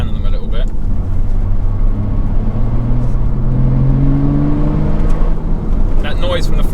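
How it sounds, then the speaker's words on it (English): A Porsche Cayman track car with an aftermarket flywheel drones with a low engine hum at low revs under load, the pitch slowly rising and shifting across the span, with a person talking over the steady road and engine noise. "That noise from the flywheel, like I said, it gives a bit of a hum, particularly at low revs when you're loading up the engine."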